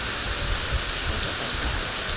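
Steady rain pours down as a dense, even hiss, fairly loud and unbroken for a couple of seconds.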